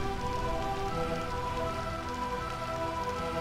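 Steady rain falling in the rain-soaked city of Burmecia in Final Fantasy IX, a dense continuous patter under a layer of sustained musical tones, with no voices.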